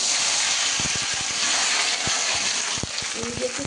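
Vegetables fry in hot oil in a kadai, giving a loud, steady, hissing sizzle that runs throughout, with scattered crackles and a faint voice in the background.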